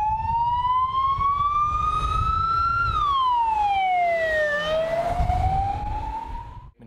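An ambulance siren wails loudly near a hospital in Odense, its tone sweeping up and down as it passes close by over low road rumble, with no speech.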